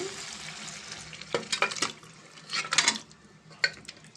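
Mutton frying and being stirred in a pan for a tomato curry, with a steady low sizzle broken by several bursts of scraping and clattering as a utensil works through the pot, close by and with no talk.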